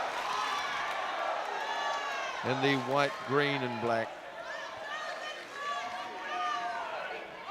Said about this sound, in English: The crowd getting behind their local boy